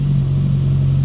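A classic Mini car engine hums with a steady, loud, low drone and rumble at close range, holding an even pitch with no noticeable rise in revs.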